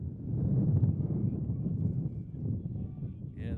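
Heavy wind buffets the microphone in a steady low rumble at an outdoor baseball game, with faint voices barely audible beneath the roar.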